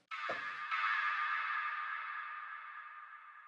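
A vocal chop in an Ableton Live chill guitar trap beat, treated with a quarter-note delay at 70% mix and narrowed stereo width, sounding as a faint echoing vocal tone that trails off slowly.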